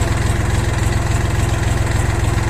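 A Dongfeng 244 DHX mini tractor engine idles loudly up close, a steady low rumbling throb with rapid regular pulses and no voices.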